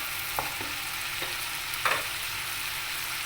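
Chicken börek filling, with peas and the other ingredients combined in a pot, sizzles steadily in a constant frying hiss, with a few soft stirring scrapes and clinks, and no talking.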